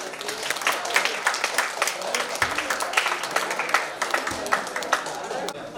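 Students applaud at a Louis Braille birth anniversary ceremony in a school. The clapping is continuous and crowded, with close, sharp individual claps standing out. Voices are faintly audible underneath.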